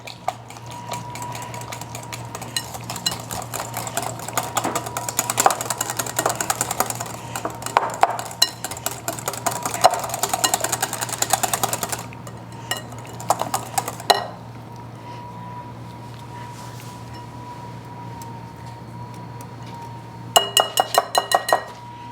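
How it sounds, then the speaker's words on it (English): Spoon clinking and scraping against a bowl while homemade ricotta made from powdered milk is mixed with egg, a busy run of close clatter that falls quiet for a stretch, then returns in a brief burst of taps. "we want to mix the ricotta with the egg until they're well mixed"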